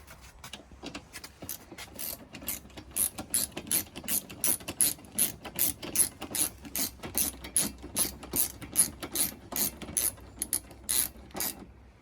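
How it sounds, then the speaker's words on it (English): A ratchet with a 10mm socket tightens subframe bolts in quick rhythmic runs of sharp, close clicks, with short pauses between strokes. "put a 10mm back on, and I will tighten these bolts that bolt into the subframe"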